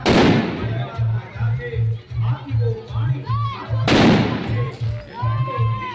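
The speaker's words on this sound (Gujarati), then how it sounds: "ફટાકડા છોકરાઓ ફોડે છે." Boys set off firecrackers during a Ram and Krishna birth festival celebration, with two loud sharp bangs several seconds apart. Crackling and a rhythmic low drumbeat run between them, and voices are heard throughout.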